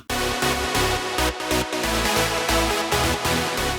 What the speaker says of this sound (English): It's a big super saw